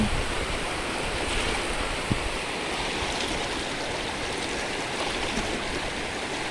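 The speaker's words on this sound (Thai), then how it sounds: "น้ำแรงมากเลยทุกคน" A forceful forest stream rushes past during rain, close and loud, a constant broadband wash with occasional small knocks and some wind.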